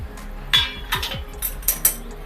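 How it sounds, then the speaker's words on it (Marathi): A metal lid lifted off a pan of cooking matar keema, a few light clinks and scrapes of metal against metal, close and quiet with no talk. "आता आपल्याला झाकण उघडून बघायचं आहे।"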